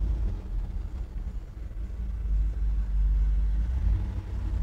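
1987 Chevrolet Silverado 4x4 pickup engine and exhaust while driving, a close, steady low rumble that swells slightly as it pulls, with no talking.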